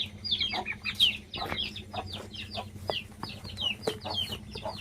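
Hens and small chicks cluck and cheep together at close range, a busy stream of short, high peeps and soft clucks overlapping continuously with no speech.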